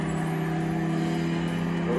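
A car engine from a PlayStation racing game, with a Mazda driven, drones steadily and loud with a sustained tonal hum throughout, under excited voices talking over the gameplay.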